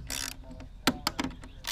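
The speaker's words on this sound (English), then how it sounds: "you can simply use a ratchet" A hand ratchet tightens the hardware on a DIY boat bunk for a utility trailer, giving a run of close, crisp clicking pawl strokes in an uneven rhythm with no talk.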